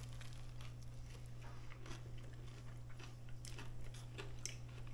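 Crunchy bites and chewing of a fried lobster po'boy with butter-soaked breading, close and fairly quiet, irregular crackles over a steady low hum with no talk.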